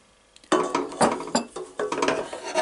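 A wooden cooking spoon stirs and scrapes in a bowl or pot for a cherry cake, giving a run of close, moderately loud knocking and scraping strokes in an uneven rhythm, with no talking.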